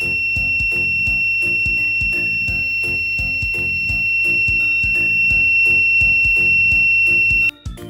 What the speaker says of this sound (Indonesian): Saat diberikan gas, maka buzzer akan berbunyi